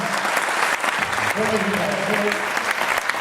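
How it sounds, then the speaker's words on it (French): An audience applauds an award winner at a building-trade young entrepreneur ceremony, with steady dense clapping throughout and a voice briefly speaking under it. "On l'applaudit."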